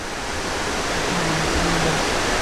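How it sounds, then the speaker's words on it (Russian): Rushing river rapids spilling over a small dam on the way to a waterfall in Cuba, a steady, dense roar of water that stays close and constant throughout. "Это один из порогов и такая запруда, ну, чтобы вода быстро не уходила."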